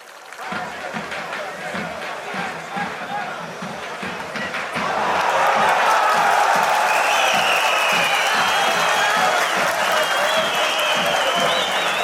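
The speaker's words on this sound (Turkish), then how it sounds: "Şeref, coşkuyla alkışlıyoruz." A crowd at a Kurtdere oiled wrestling ground applauds enthusiastically, clapping at first and then swelling into louder, denser applause mixed with cheering and whistles midway, with voices in the background.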